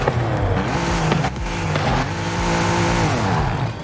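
Pickup truck on drag tyres driving in Forza Horizon 5, its engine revving and shifting in loud rising and falling pitches for a few seconds.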